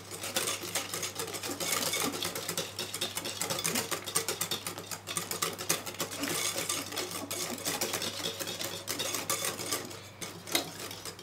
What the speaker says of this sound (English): Whisk it again.